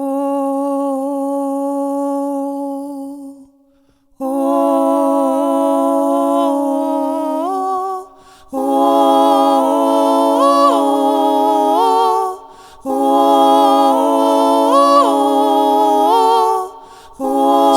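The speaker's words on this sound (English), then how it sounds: "we do our central note, and then we do one sound on the left and one sound on the right" Sustained synth tones stacked into a harmony, one note panned center, one left and one right, entering in layered phrases separated by brief gaps, with a short pitch wobble within each phrase.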